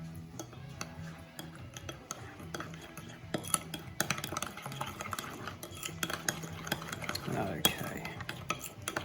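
Sweet paprika is stirred into a mixture in a bowl, giving quick repeated scraping clinks of a utensil against the dish, faint at first and then louder and busier, with no talk.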